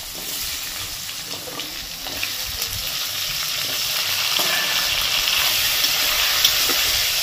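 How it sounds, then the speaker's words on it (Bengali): Diced potatoes fry in hot oil in a pan, giving a steady close sizzle with light stirring and scraping, continuous and alone without talk. "এই দেখো এখানে আলু ভাজা হচ্ছে, আলুটা লাল করে ভাজা হোক।"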